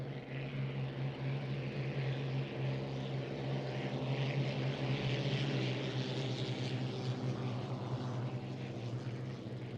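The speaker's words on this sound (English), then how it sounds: "Listen to these boats as they go by." Vintage race boats pass at full throttle, a steady distant engine roar swelling slightly as they go by, with no one talking.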